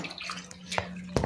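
Clothes are washed by hand in clean water at home, with soft splashes and drips, a couple of sharper sloshes and a low background hum.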